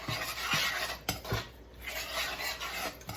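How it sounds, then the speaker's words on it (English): A spoon scrapes and clinks against a pot while Puerto Rican style Spanish rice is stirred, giving soft repeated scraping strokes with a few sharper taps, fairly quiet and close. "So let's go ahead and keep stirring this."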